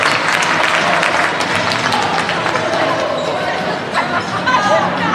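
After a men's college volleyball match win, the gym fills with crowd noise, applause, cheering and scattered shouts, a busy, loud celebration with overlapping voices and sharp sounds from the court.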